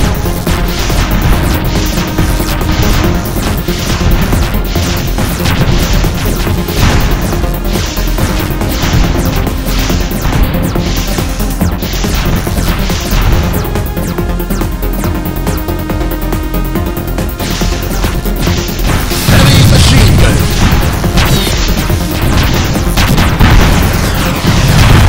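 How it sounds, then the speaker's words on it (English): Laser gun fire and explosions from the Stickman Shooter video game, a loud, dense stream of booms and crashes over game music, with a heavier burst of blasts near the end. "Laser gun."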